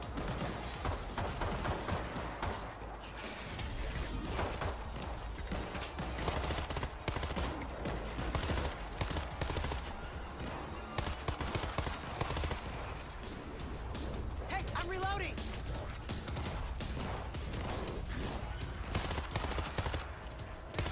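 Rapid gunfire from a single-shot weapon blasting zombies in the video game World War Z, dense continuous volleys of shots and impacts filling the whole stretch with no pauses.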